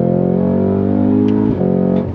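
A 2024 Cadillac CT5-V Blackwing sports sedan engine revs hard in second gear and climbs in pitch under heavy throttle, loud and close, with a brief dip near the end as it keeps pulling.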